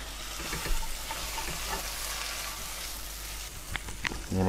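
Chopped chilies are tossed into hot oil for a chicken tikka masala, frying with a steady crackling sizzle and a few stirring knocks toward the end.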